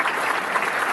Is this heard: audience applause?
yes